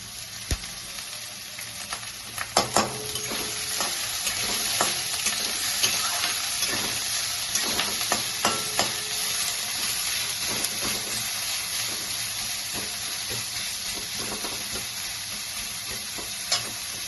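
Chopped onion frying and sizzling in a hot pan for a Bengali gourd-seed vorta, a steady broadband hiss with scattered scraping stir clicks, close and continuous throughout.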